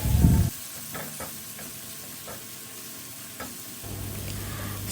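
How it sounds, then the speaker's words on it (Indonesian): Sautéed spices and tamarind water sizzle and fry in a pan while being stirred, with scraping strokes at intervals and a soft, steady hiss throughout. "jangan lupa diaduk lagi."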